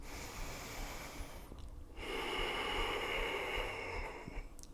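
Steady, slow breathing during a strong vinyasa yoga flow, with long soft breath sounds close by that swell and ease over a few seconds and no talking.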